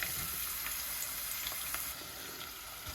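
Onions hiss and crackle in hot oil in a pot for a spicy brain bhuna, a loud, close, continuous sizzle with scattered pops that eases slightly toward the end.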